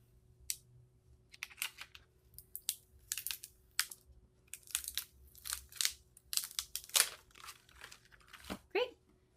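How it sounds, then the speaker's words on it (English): Transfer tape is peeled off vinyl lettering on a frame, giving faint, close, intermittent crackling and sticky ripping sounds in irregular short bursts over a quiet background. "Now let's remove our transfer tape."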